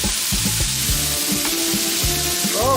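Vegetables sizzle on a grill with a steady hiss, punctuated by rhythmic low clunks and scrapes as they are moved around, close and fairly loud.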